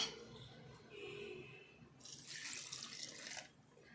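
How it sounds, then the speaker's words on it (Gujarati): Warm water streams into handvo batter in a bowl, a soft trickling pour heard in short bursts, quiet and close, with a brief louder splash in the middle. "ગરમ કરેલું પાણી નાખીશું"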